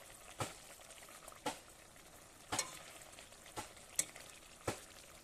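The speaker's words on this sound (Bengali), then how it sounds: "আমার তরকারি ফুটে গেছে এরপরে আমি দিয়ে দিচ্ছি ওই ভেজে রাখার ডিমের অমলেট" Curry simmers in a pot after pieces of fried eggless omelette are added, giving a soft, quiet bubbling hiss broken by a handful of evenly spaced pops and light stirring clicks.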